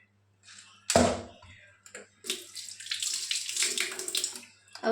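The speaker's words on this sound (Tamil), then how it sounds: "அவ்வளோதான், சிக்கன் கழுவியாச்சு." Water runs over raw chicken being washed in a kitchen sink, a broadband splashing rush that starts abruptly, pauses briefly, then flows steadily and close by, with no talking.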